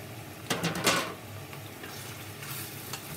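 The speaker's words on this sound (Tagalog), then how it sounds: "lagay na natin itong ating beef" Beef dropped into a pan of sautéed aromatics for kare-kare: a brief burst of crackling sizzle and stirring scrapes, then a quieter steady fry, fairly faint and unaccompanied by talk.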